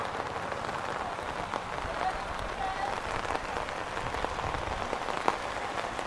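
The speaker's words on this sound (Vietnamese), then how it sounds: "Trời có mưa. Và thậm chí là mưa to và có cả sấm chớp nữa các bạn." Heavy rain falls steadily over an outdoor mountain ethnic market on a stormy morning, a dense continuous hiss of drops hitting surfaces with faint crowd murmur underneath.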